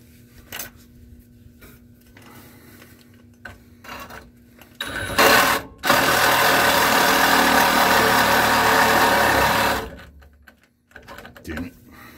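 A power cutting tool slicing through the steel spare tire carrier on a 2nd Gen Dodge Cummins, a loud, steady, high-pitched grinding whine lasting about five seconds, set between quieter shop handling noises and brief clatter.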